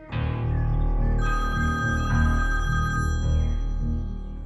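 A phone rings with a looping electronic ringtone melody, loud and steady over a low background hum, with no voices.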